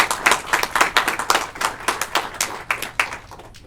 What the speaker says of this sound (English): And I think they all should be applauded for that.